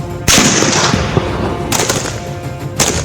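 NSG sniper rifles firing on a range, two or three loud, sharp shots each followed by a long rolling echo, close and dominant with no voices.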